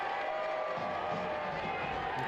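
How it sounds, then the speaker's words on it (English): Steady, dense roar of a soccer crowd at a Richmond Kickers versus FC Naples match, broad wash of cheering and applause sustained throughout, heard from a distance in the stadium. "Draws a loud applause from the crowd as well."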